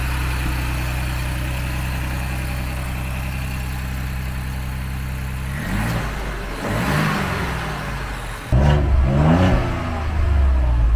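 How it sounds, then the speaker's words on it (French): A 2023 Ford Bronco's V6 engine idles with a low, steady rumble, then revs up twice in sharp bursts before settling back; close and fairly loud, no talking. "le son du V6."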